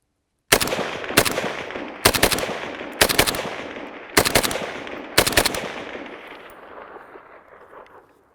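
An AK-47 fires about ten reloaded 7.62x39mm tracer rounds outdoors in sharp, loud reports, mostly in quick pairs spaced roughly a second apart, each followed by a decaying echo.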